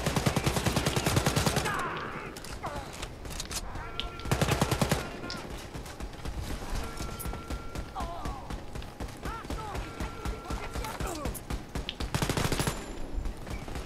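An automatic shotgun fires in Wolfenstein Youngblood, loud rapid bursts of blasts in repeated volleys separated by brief gaps filled with game effects and voices talking.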